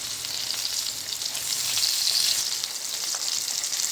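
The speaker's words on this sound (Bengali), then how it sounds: "এই যে পেঁয়াজটা ভাজা ভাজা করছি" Chopped onions fry steadily in a pan for a fish curry, a constant bright sizzle with faint stirring scrapes, close and alone without voices.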